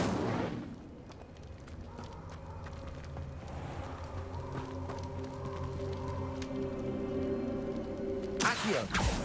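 A fire spell cast in Hogwarts Legacy sets up a layered, droning magical hum with tonal overtones. It holds steady for several seconds, then ends in a sharp, noisy burst.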